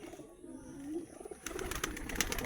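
Shahjahanpuri pigeons stir in a netted loft as a female tries to reach a male, a soft low coo early on giving way to busier rustling, fluttering and scuffling that grows louder in the second half.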